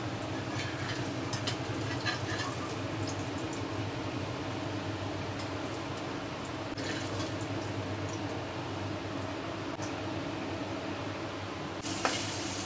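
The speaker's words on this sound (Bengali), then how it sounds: "সেই তেলটার মধ্যে এখন পনিরগুলো একটু হালকা ফ্রাই করে নিচ্ছি" Paneer pieces fry lightly in home-kitchen oil that was just used for frying pointed gourd, giving a faint, continuous sizzle and hiss that carries on evenly, with a brief clink near the end.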